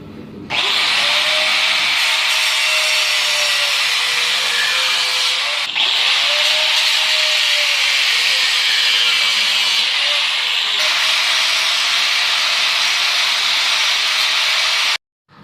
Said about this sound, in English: I'm just going to chop that off with an angle grinder.